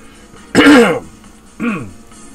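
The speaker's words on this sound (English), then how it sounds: "Clear my throat." A loud throat clearing, then a second shorter, softer one about a second later, close up with no talking.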